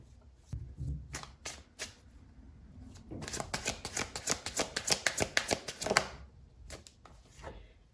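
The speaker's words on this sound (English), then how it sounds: "so let's get another card to clarify it." A deck of oracle cards is shuffled nearby with a few scattered taps, then a quick, dense run of riffling snaps before it settles.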